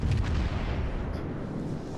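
Naval guns firing in World of Warships: Legends, a video game, make a dense, continuous low rumble of heavy gunfire that stays loud throughout without clear separate shots.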